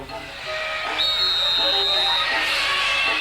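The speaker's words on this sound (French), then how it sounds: "Ton sifflet les fait fuir" A shrill, sustained cartoon whistle blast cuts through a hissing, noisy background, holding for about a second before fading into broader hiss.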